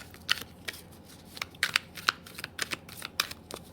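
Tarot cards being shuffled and drawn at close range for a reading, giving a string of crisp, irregular riffling snaps and slides without any talk.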